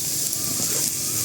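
Garlic sizzles in a pan of oil during sautéing, giving a brief, steady hiss of frying up close.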